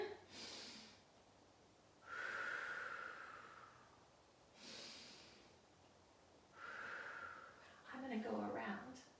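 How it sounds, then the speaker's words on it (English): A slow, deep breath drawn in as part of a calming breathing exercise, heard as a breathy inhalation that swells and fades, with several similar breaths and exhales repeating at a steady, unhurried pace close to the microphone. "I'm going to breathe in"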